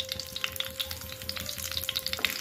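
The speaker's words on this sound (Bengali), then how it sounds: "কড়াইতে আমি তেল দিয়ে দিচ্ছি, তেলটা গরম হয়ে গেছে। এবার সামান্য কালো জিরে আর শুকনো লঙ্কা ফোড়ন দিয়ে নেব।" Black cumin and dried red chilli tempering sizzling in hot oil in a wok, a dense crackle of close, steady frying pops with a faint tonal hum beneath, no voices.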